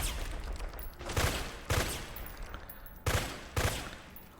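Gunfire in Metal Gear Solid 4 with the weapon in two-round burst mode: loud, sharp paired shots come in four separate bursts, each double crack standing out over a steady background of game ambience.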